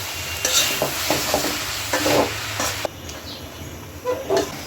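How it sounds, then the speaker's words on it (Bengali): Jute leaves being stirred in a hot pan with shrimp and jackfruit seeds, close spatula scrapes and clattering pushes over a light sizzle, in a few brisk bursts of stirring with short pauses between. "এই পাট পাতাও কিছুক্ষণ কষাই নিব, অল্প সময়।"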